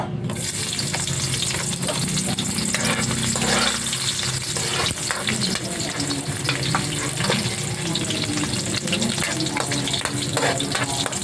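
Garlic sautéing in a pan for vegetable opo with ground pork, a loud continuous sizzle with repeated scraping stirs and clinks, close up and without talk throughout.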